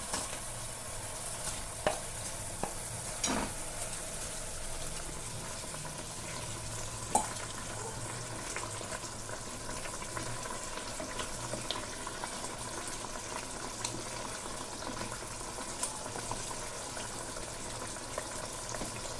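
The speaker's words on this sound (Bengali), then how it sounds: "ঝোলটা আমার ফুটে গেছে, এবার আমি বড়াগুলো দিয়ে দেবো এর মধ্যে" Green banana kofta balls drop into a pot of already boiling curry gravy, a steady low bubbling and stirring with a few sharp clinks of a utensil against the pot, no voices.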